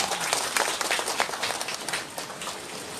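Applause from an audience at a Sundanese comedic religious sermon, a steady wash of many hands clapping at moderate loudness for about three seconds, with no voices over it.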